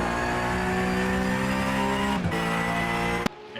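Porsche flat-six race car engine in the iRacing simulator, a Porsche Supercup race at Barcelona, droning loud and steady at high revs throughout before cutting off abruptly near the end.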